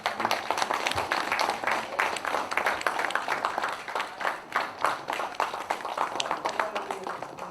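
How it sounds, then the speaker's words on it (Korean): An audience applauds at a book concert for a poetry collection after flowers are presented. Dense, continuous clapping fills the hall and holds steady throughout, with no pause. "박수로 축하해 주시기 바랍니다."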